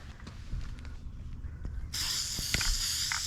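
Neon Rust-Oleum spray paint hissing from an aerosol can onto takedown rod holders, a loud sustained hiss starting partway through after quiet handling noises.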